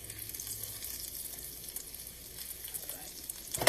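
Steady oil sizzle and crackle of panko-coated Spam frying in a pan, continuous and close, with a brief louder clatter at the very end.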